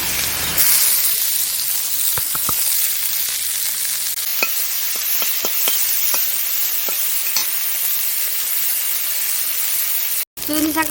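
Garlic and shrimp sizzle steadily in a hot pan over a village cooking fire, a continuous loud hiss broken by a few sharp clicks of stirring, with a brief dropout near the end.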